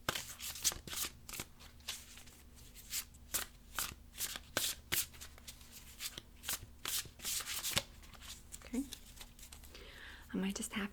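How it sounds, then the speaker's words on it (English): Tarot cards are shuffled by hand in a string of quick, papery riffling bursts over about eleven seconds, close and moderately soft, with a faint voice murmuring in the background. "I might just have to cut the cards and pull one out."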